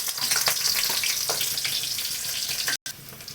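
Sliced onions and cauliflower sizzle in hot oil, a loud, close, dense crackle with a few sharp spatters and stirs, cut by a brief silent gap near the end.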